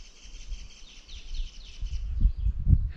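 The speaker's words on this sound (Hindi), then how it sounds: "आपको आसपास में सिर्फ चिड़िया बोलती हुई सुनाई दे रही होंगी।" Faint high bird chirps repeat in the background at a mountain camping site in Himachal, while low rustling and handling thumps grow louder near the end.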